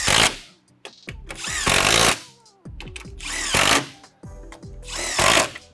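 Power tool driving 10mm bolts across the top of a Gen3R install on a 2015-2017 Ford F-150 5.0 L, three close bursts of loud whirring and rattling impacts separated by brief pauses, with small clicks in between.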